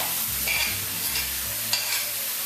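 Garlic hitting a hot wok of mushrooms and pancetta, with a steady close sizzle, a few clatters and scrapes of stirring, and short bursts of crackling.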